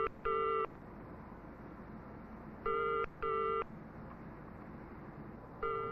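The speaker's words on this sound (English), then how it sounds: "That means that the school phone is ringing." Ringing tone of a 1960s telephone as heard by the caller, a repeating pattern of double electronic rings over a faint hiss, with no one talking.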